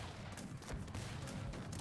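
Cannon artillery and musket gunfire crackle through a fortress assault battle in the strategy game Cossacks 3, with dense overlapping low booms and scattered sharp shots forming a continuous distant rumble.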